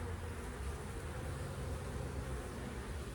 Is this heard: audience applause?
no